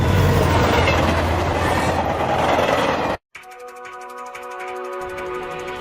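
Train running in an anime scene with a malfunctioning control valve: a loud continuous rumble cuts off abruptly, then returns as rhythmic clickety-clack wheel beats over rails with a tonal mechanical hum, no voices.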